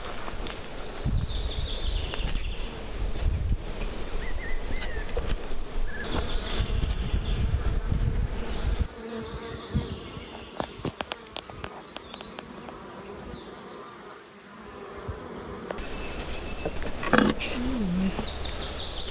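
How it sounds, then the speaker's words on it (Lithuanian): Lithuanian dark honey bees buzz densely around an open hive, their steady drone close and loud while people talk nearby. "čia yra lietuviškos bitės tamsiosios"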